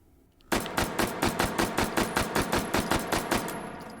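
Rapid full-auto bursts from an H&K MP5K fitted with a foregrip and compensator in the H3VR video game, a sharp, evenly spaced string of about sixteen close, loud shots after a brief quiet start.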